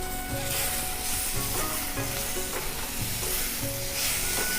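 Ginger paste and chopped tomatoes frying in a hot pan for a North Bengal hill-style squash dish, a steady close sizzle with stirring scrapes.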